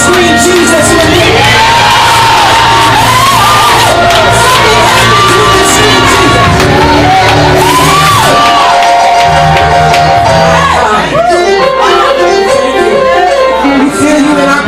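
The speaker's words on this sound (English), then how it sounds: "Somebody just scream Jesus with me." A church revival congregation screams and cheers loudly all at once, a dense wall of overlapping shouts, whoops and high cries that swells and carries on without a break, with no one speaking clearly.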